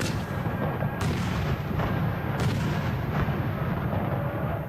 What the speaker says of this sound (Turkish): Zonguldak'ta ise 271 yıllık Ramazan topu geleneğinin yerini ses bombası alıyor.